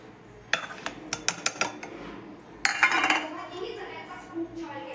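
Garlic and green chili being pounded with salt in a mortar: a run of sharp knocks, then a denser burst of grinding thuds, with a voice talking between the strikes.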